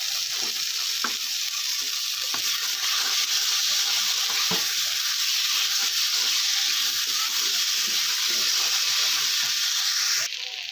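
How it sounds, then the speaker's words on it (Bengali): Ground spice paste frying with sea honey tangra fish and new potatoes in a pan, a loud continuous hissing sizzle with occasional spoon knocks and scrapes as the mixture is stirred. "বেটে রাখা মশলা এবার সব কিছু একসাথে ভালো করে আমি কষিয়ে নেবো"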